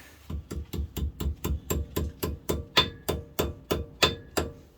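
Locking retainer being tapped into place on a Dana 70 rear axle during drum brake and seal work, a steady series of about fifteen evenly spaced metallic hammer blows, close and moderately loud with no talking.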